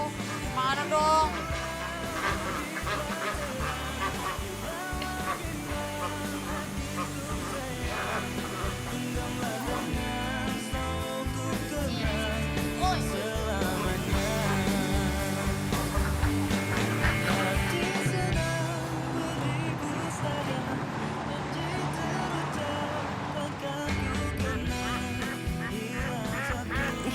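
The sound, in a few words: ducks quacking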